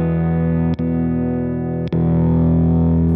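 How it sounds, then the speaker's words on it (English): An electric guitar runs through a NUX Kompressor placed before a NUX Masamune booster, producing a more driven, distorted tone: sustained chords broken by two quick restrikes, loud and close. "This is the compressor first."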